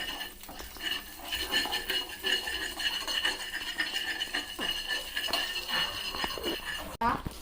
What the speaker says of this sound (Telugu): మిక్స్ చేయాలి.